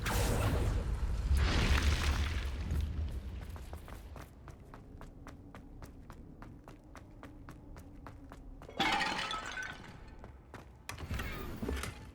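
A Confringo fire spell in the video game Hogwarts Legacy sets off a deep booming blast that breaks objects apart. Steady footsteps follow, then two more loud bursts near the end.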